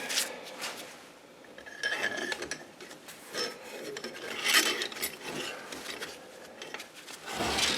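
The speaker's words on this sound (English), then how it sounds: "Now we'll start to put the rods back in." Metal rods slide back into an electric motor during a bearing replacement, a series of scraping, rasping rubs and small metallic clicks in uneven bursts, close and moderately loud, with no talk.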